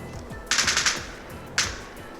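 Video game gunfire heard through PTron Bassbuds Xtreme earbuds: a short automatic burst of rapid shots followed by a single louder shot, over a constant background hum.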